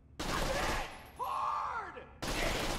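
Dahl pistol shots from Borderlands The Pre-Sequel, a couple of loud sharp bursts separated by a brief mechanical whir, with no talking.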